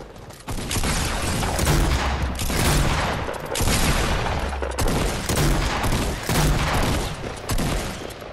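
Gunfire in a Fortnite battle royale squad match: dense, loud volleys of rapid shots roll on almost without pause, with a few brief gaps between bursts and no talking.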